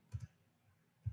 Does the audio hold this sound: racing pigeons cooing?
no